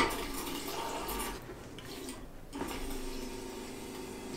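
A countertop InstaRinse glass rinser sprays water into a beer glass, a steady close hiss of spray with a brief lull midway before the flow resumes.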